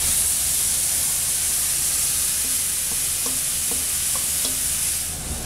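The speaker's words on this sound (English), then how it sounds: "Give it a stir." Tomatoes stirred into a vegan portobello mushroom ragu over a constant loud sizzle, with a few soft spoon knocks against the pan coming through the hiss toward the end.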